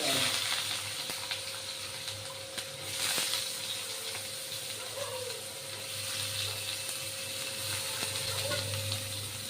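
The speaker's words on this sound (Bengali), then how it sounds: "এবার ভাজবো আমি সরু সরু কাটা কুমড়োগুলো" Thinly sliced pumpkin frying in oil in a wok, a steady soft sizzle with faint crackles and occasional clicks of utensils, close and continuous with no talking.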